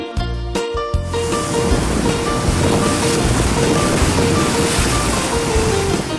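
Loud ocean surf roars continuously, waves crashing and rolling close by with a wind-like wash, preceded by a few brief low thuds at the very start.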